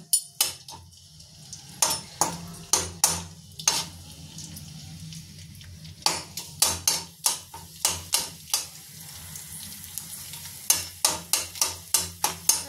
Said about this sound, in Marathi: आता बाकीचा डिंक पण आपण अशाच प्रकारे तळून घेऊयात